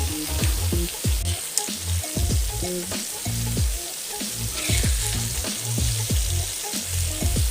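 Brinjal (eggplant) frying in a pan for bharta: a steady close sizzle with frequent clattering stirs and scrapes in an uneven rhythm throughout, and no voices.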